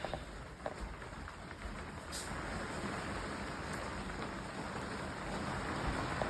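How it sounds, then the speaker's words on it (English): Steady rain falls throughout as a dense, even hiss, with a few faint drips and taps early on and no voices. "It's raining and raining and raining"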